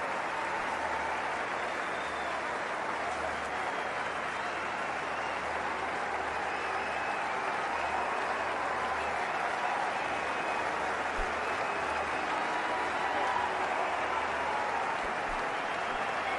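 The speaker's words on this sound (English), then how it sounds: "Great ovation from the Indian crowd." An Indian crowd at a 2023 World Cup cricket match against South Africa gives Virat Kohli a long ovation, a dense, steady wall of stadium applause and cheering that stays loud and even throughout.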